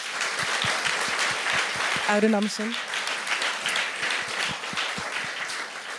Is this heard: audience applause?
yes